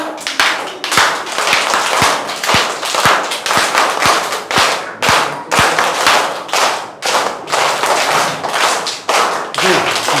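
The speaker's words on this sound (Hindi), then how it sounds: "3 ताली वाला बजा के दिखाइए।" A group of schoolchildren claps together in a repeating three-clap pattern, loud, sharp, in-sync bursts grouped in threes with short pauses between sets, continuing steadily throughout.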